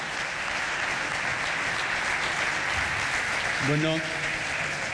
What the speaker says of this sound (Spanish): Un aplauso, muchísimas gracias y enhorabuena